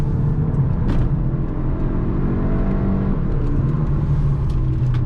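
A 2021 Hyundai Elantra N Line is driven briskly along tight back roads, its engine a steady close rumble with road and tire noise and slight rises in revs.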